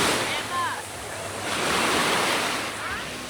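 Sea waves washing onto the shore in gusty wind, a loud, rolling surf that swells and recedes with buffeting wind noise on the microphone.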